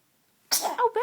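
After a moment of near silence, someone sneezes once, sudden and close, a sharp burst that trails off into a short breathy tail.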